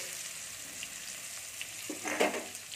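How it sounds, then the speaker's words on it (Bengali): Chopped onion frying in oil gives a faint, steady hiss that swells into a louder crackling burst as more pieces hit the pan. "এর মধ্যে আমি পেঁয়াজ কুচি দিয়ে দিচ্ছি।"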